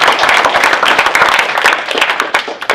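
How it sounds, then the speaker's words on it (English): An audience at a panel discussion claps, individual claps distinct and close, a short, lively burst that thins slightly toward the end. "he deserves a round of applause"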